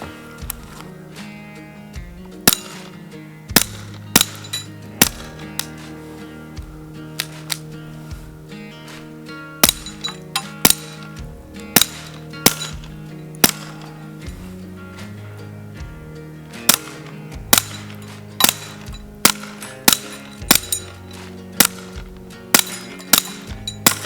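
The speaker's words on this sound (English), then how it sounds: "I'm going to do a little bit more shooting here." Gunshots ring out at an outdoor shooting range as sharp, isolated reports, some single and some in quick pairs or clusters, spread irregularly over about twenty-four seconds above a low steady background tone.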